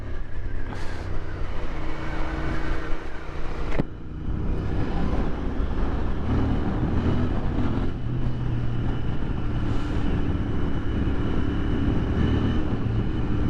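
Royal Enfield Interceptor 650 twin-cylinder motorcycle engine with a steady low thumping drone under wind rush while riding, one brief dip near the middle as the throttle eases before pulling on.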